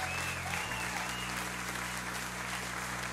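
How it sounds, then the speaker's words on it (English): Steady applause washes through at a low, even level, a smooth continuous clatter of clapping without breaks, with a faint low hum running underneath. "I appreciate the applause."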